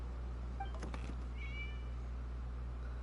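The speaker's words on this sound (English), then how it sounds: "what's that sound? That is a cat." A cat in Genshin Impact gives a few short, clear meows, faint against a steady low hum, followed by a brief higher chirp-like call.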